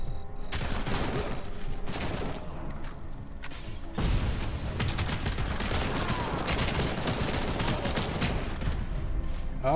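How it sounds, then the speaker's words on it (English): Dense, sustained machine gun fire in the RoboCop video game rattles loudly almost without a break, layered with explosions and other game action. "Oh, there is a machine gun, clearly."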